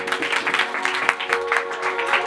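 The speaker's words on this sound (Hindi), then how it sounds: "जोरदार तालियां बच्चों के लिए।" Clapping from an audience at a church Christmas program, applauding the children who performed, a steady dense patter of hands with a sustained tonal musical hum running beneath it.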